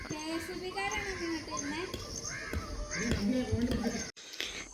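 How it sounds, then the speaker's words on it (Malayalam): Several crows caw repeatedly outdoors in the evening near plants and flowers, their harsh calls fairly close and overlapping, while people talk over them and a short sharp noise cuts in near the end. "ഒരു കാക്ക അങ്ങോട്ട് പോയപ്പോ ഒരു കാക്ക ഇങ്ങോട്ട് വരുവാ"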